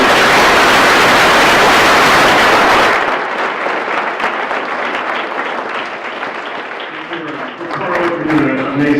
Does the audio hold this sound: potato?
no